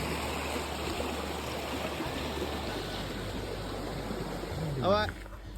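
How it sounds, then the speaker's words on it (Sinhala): A forest river stream flows along a jungle trail near Deraniyagala, a steady close rushing and babbling of water that fills the whole stretch, with a brief rising tonal sweep near the end. "කුරු ගඟ නැත්තම් සීත ගඟුලේ ඉන්නේ"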